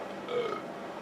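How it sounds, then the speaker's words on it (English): A single cartoonish burp rings out on a Crash Tag Team Racing game load screen, short and fairly loud against a steady background hum. "when it comes to the games and interactive load screens, we're having farts and burps."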